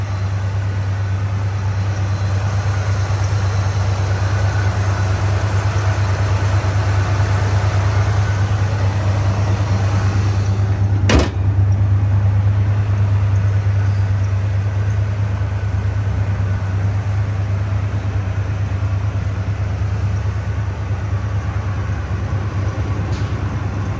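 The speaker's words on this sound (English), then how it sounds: "the engine has been built because it runs very strong" A 1965 Pontiac GTO Tri Power engine runs at a steady idle, a continuous low hum with one sharp click partway through.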